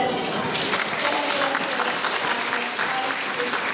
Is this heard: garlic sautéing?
no